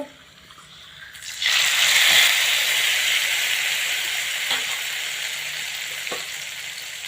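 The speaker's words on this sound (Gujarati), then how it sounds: "મિત્રો તમે જોઈ શકો છો બહુ સરસ મને વઘાર થઈ ગયો છે" Spices for a tempering crackle and sizzle in hot oil for Punjabi yogurt kadhi, starting quietly and then bursting into a loud, steady frying hiss that continues to the end, with no talking.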